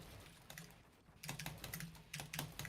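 Computer keyboard keys tapped during a Fortnite session, bursts of quick clicky strokes in short clusters separated by brief pauses, close and fairly quiet with no speech.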